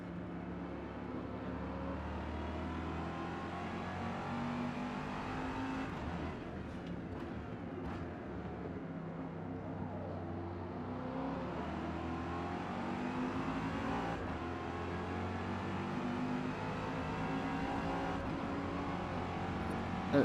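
A Ford GT race car engine drones and revs continuously in an A Class race in Forza Motorsport, with repeated gear shifts and shifting pitch, steady and loud with no talking.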